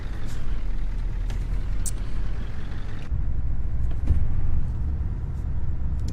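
A Scania 1 Series 111 or 141 truck drives in Euro Truck Simulator 2, giving a continuous low engine drone with a few clunks and a short hiss partway through.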